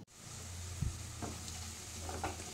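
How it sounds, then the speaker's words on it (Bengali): Onions fry in a pan for mini samosas, a steady close sizzle broken by a few soft stirring scrapes and bumps. "এদিকে আলুটাও চটকানো হয়ে গেল, আর পেঁয়াজটাও দেখো ভাজা ভাজা হয়ে এসছে।"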